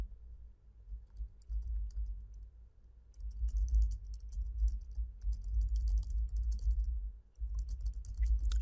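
Steady typing on a computer keyboard while entering HTML code, a run of close, quick key clicks with a short pause near the end before the tapping resumes.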